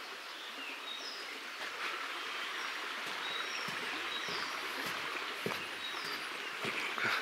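Small river flowing steadily in the countryside, a soft continuous wash of water with faint birdsong chirps above it and no talking.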